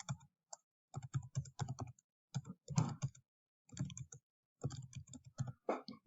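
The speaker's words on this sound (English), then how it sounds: "So what I will do is just type them all in." Numbers typed on a computer keyboard, close and clear, in quick clustered bursts of clicking keystrokes separated by brief pauses.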